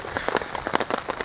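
Heavy rain drums in dense, irregular pattering on a tent or tarp at a wild camp, loud and close, with gusting wind behind it.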